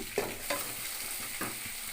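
Onions and green chillies fry in hot oil with a tempering of urad dal and curry leaves, a close soft sizzle broken by three distinct stirring scrapes of a spoon in the pan.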